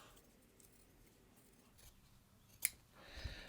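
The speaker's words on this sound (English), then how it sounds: "I'm just using my scissors here" A single crisp snip of scissors cutting through sports bra fabric to trim off the seam allowance, sharp and close in an otherwise quiet room.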